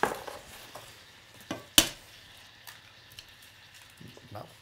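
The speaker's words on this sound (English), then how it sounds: "now something is boiling. No, it's the butter. It's melting." Butter melts in a pot with a soft, low sizzle under occasional clinks of utensils against cookware, one sharp metallic knock standing out, with no voices.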